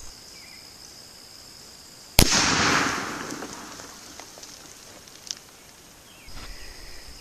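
A single rifle shot from an Eddystone rifle firing a Lyman 210 grain cast bullet at over 2,400 feet per second cracks sharply outdoors, then fades into a decaying echo with faint small noises afterward.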